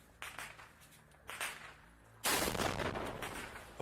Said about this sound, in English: auto subs hear gunfire and they think it's applause